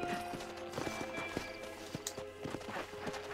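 In the Red Dead Redemption video game, a horse's hooves clip-clop in a steady walking rhythm, each hard knock sounding distinct against a low background hum.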